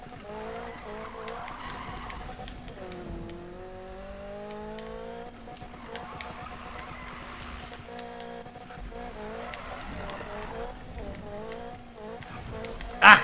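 Racing cars in the Need for Speed video game, with engines roaring steadily, pitch sweeps as they shift and corner, and tires skidding, under background talk and game noise throughout.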